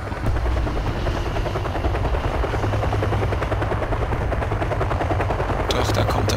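In the Kane and Lynch video game, a helicopter's rotor chops loudly and steadily while rapid machine gun fire rattles underneath, with sharper bursts near the end.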